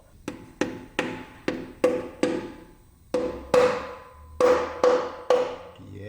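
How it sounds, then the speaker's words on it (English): Metal bolts screwed into a BMW M50 engine block are tapped with a hammer to push the pistons and connecting rods out, giving about a dozen sharp, close knocks in uneven groups, some ringing metallically, with no talk. "I think I should just screw these bolts in and then tap them to push the whole piston and"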